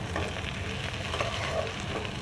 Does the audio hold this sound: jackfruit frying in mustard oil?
yes